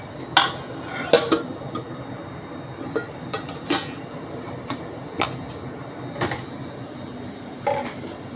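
A metal tiffin box being covered with its lid while Bengali-style hilsa with poppy seed paste is prepared, giving sharp metallic clinks and clatters spread across the stretch over faint kitchen background.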